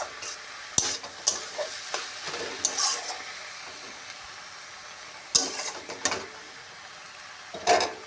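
Mixed leafy greens stir-fry in a pan, a low background sizzle broken by sharp scraping stirs and knocks of the spatula against the pan, fairly quiet with no voices.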